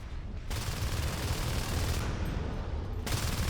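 Gunfire in the sci-fi shooter Natural Selection 2: a dense, continuous stream of rapid automatic fire throughout, loud and without pause, with no talk over it.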